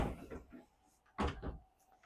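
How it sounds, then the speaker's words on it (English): A door closes inside a Forest River R-Pod travel trailer, a quick close thud near the mic after a few softer handling knocks, followed by a short fainter knock. "voila, I close this door and I have full privacy."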